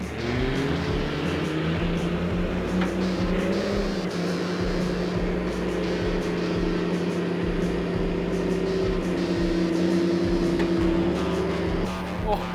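A 300HP Landcruiser engine labours in first gear through soft sand on a river track, a loud steady drone with rising and falling pitch that holds throughout without speech.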